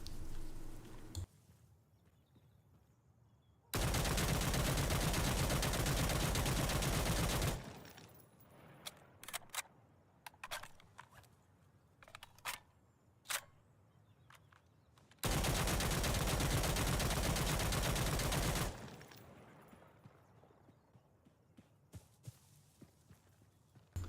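A G3A3 battle rifle in Insurgency: Sandstorm fires in two long, loud sustained bursts at close range, aimed through layers of walls, separated by scattered single sharp cracks and impacts.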